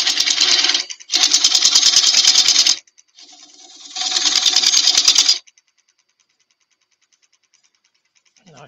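A bowl gouge cuts into yew wood spinning on a lathe for a farmhouse plate, two long rasping passes of steady buzzing scrape with a short break between, close up, then the shop falls quiet.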